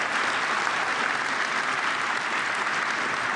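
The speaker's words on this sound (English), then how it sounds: "Big round of applause to Pierluigi Collina," An indoor audience at a pre-World Cup FIFA gathering in Vancouver claps for Pierluigi Collina. The applause is steady and dense, many hands sounding together at even loudness for a few seconds.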